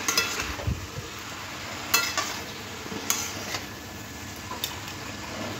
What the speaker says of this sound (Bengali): আস্তে আস্তে করে নাড়তে হবে।